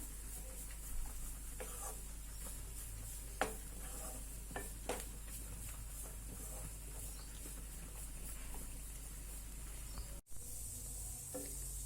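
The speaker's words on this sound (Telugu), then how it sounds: "ఇలా మధ్య మధ్యలో తిప్పుకుంటూ ఫ్రై చేసుకుంటూ ఉండండి వేగేదాకా." Grated carrot and bottle gourd frying for halwa, with a steady close sizzle and occasional scraping stirs and knocks of the spoon across the pan, with no talking.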